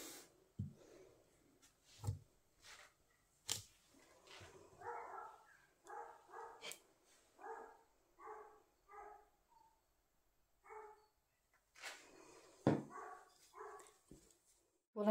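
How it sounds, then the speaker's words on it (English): Two small dogs barking indoors: repeated short, sharp yaps in irregular bursts and clusters, moderately close, with a few louder thumps and some quiet gaps in between. "And I have two little dogs. They were both barking like mad"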